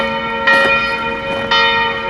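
A bell rings out at a memorial site, two clear strikes about a second apart, each leaving a sustained, steady ringing tone that hangs between the hits.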